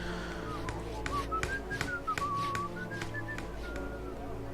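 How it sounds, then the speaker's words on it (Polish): During a Disciples II game stream, someone whistles a wavering, sliding tune in short phrases over background noise, with sharp clicks punctuating it. "Ktoś gwizdał."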